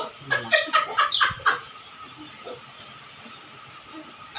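A hen clucks in a quick run of close, loud calls during the first second and a half, then quieter farmyard background with a brief squawk at the end.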